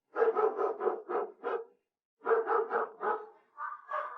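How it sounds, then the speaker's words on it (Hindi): A dog barks in rapid bursts, two runs of several sharp yaps separated by a pause, then softer whining yips at the end, fairly close and unaccompanied. "भौंको मत।"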